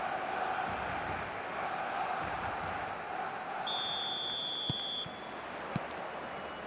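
A stadium crowd in eFootball 2026 roars as a dense, continuous wash of noise for a Barcelona versus Espanyol match, with a brief whistle-like tone and a couple of sharp knocks partway through.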